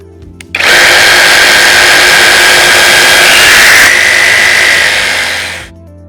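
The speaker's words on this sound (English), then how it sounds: "Simply locate into the slot on the front of the jigsaw base and cut them into position to perfectly match your blade of choice" A Festool PSC-E 18 cordless pendulum jigsaw cuts its splinter guard to fit the blade. The saw whirs loudly and steadily for about five seconds, close up, then winds down, and no one speaks.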